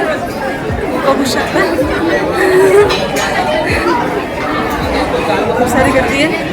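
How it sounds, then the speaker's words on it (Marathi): Dense crowd chatter fills a packed temple darshan queue at Shegaon, many overlapping voices forming a steady, close murmur throughout with no single speaker standing out. "आता आम्ही दर्शनाच्या लाईनमध्ये आहोत आणि भयंकर गर्दी आहे"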